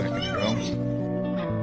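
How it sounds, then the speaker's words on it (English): A small cat in the space game X4: Foundations gives a short, clear meow, its rising and falling cry heard over a voice talking. "That's an adorable cat, the wee cat."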